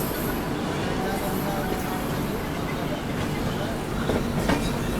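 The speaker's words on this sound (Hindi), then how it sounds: "ये निकल गया आप लोगों के न्यू दिल्ली डिब्रूगढ़ टाउन राजधानी एक्सप्रेस" New Delhi–Dibrugarh Town Rajdhani Express passing close by, a steady loud rumble of rolling coaches with faint clickety-clack over the full span, someone talking over it.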